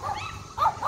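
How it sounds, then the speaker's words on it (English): A dog gives short barks and yips close by, bursting out in a couple of quick loud bunches while a person moves nearby on a slippery patch of grass during an evening outing in Linthicum Heights, Maryland. "Nice mighty dog."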